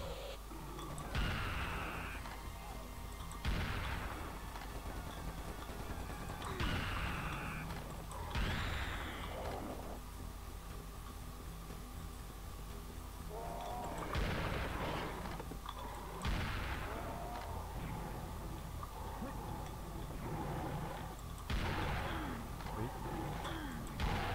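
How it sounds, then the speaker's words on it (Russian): Enemy gunfire in Serious Sam, a series of loud booming shots spaced a few seconds apart, each with a sharp attack and rumbling tail, mixed with game noise and a voice talking between them. "Вот этот гад стреляет."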